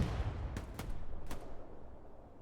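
Artillery fire in the World War II shooter Hell Let Loose on Utah Beach, several sharp distant blasts in quick succession over a dense rumbling battle background, moderately faint.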